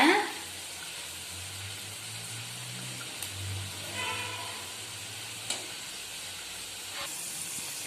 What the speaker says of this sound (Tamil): இப்போ இந்த ரோஸ் எல்லாம் எண்ணெயில பொரிச்சு எடுத்துக்கலாங்க